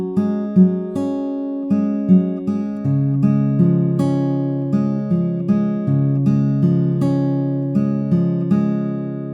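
Fingerpicked acoustic guitar plays a steady pattern of plucked notes over changing chords, clear and close, with no voices.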